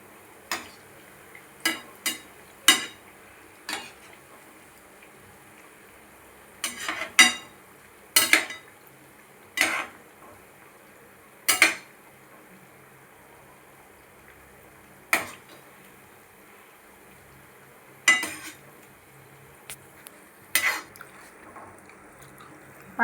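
Khajoor sweets of fried dough being turned over and over in a pan of hot oil, giving scattered sharp metallic clinks and taps at irregular intervals over a faint steady background hiss, with no talk.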